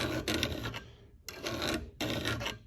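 A file is drawn in three long, even strokes along the cutting edge of 1-inch capacity wire cutters, each a loud close rasp with brief gaps between them.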